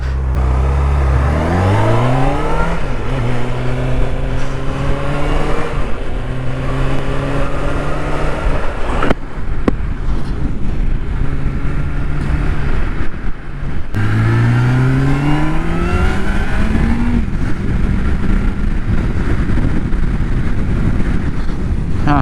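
A Honda sport motorcycle engine, compared with the 2021 CBR650R, revs hard through several gears, with a loud rising whine climbing in pitch, a brief drop at each shift, then another climb, all under steady wind rush.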